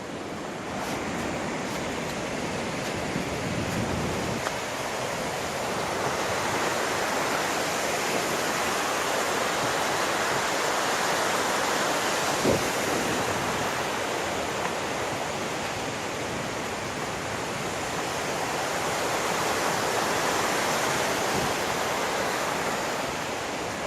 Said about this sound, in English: I feel like I'm yelling over the waterfalls.